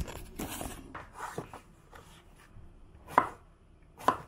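A knife chops through courgette on a board in a home kitchen, a run of soft quick cuts followed by two sharper, louder knocks near the end, close and with no one talking.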